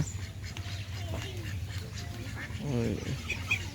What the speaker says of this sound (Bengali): এই যে হাঁস অনেকগুলা হাঁস ওই যে বড় একটা কালো হাঁস